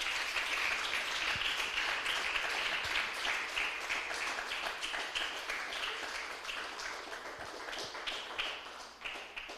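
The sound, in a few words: congregation applause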